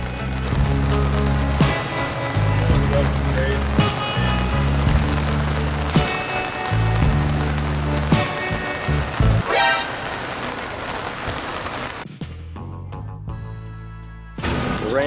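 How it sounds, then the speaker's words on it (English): Steady rain patters on a surface, a continuous wash of drops with scattered louder hits, easing off abruptly near the end. "Rain, go away, come again another day."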